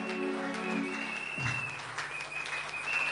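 A church congregation claps in praise of Jesus Christ, a short patter of applause mixed with sustained musical tones in the background.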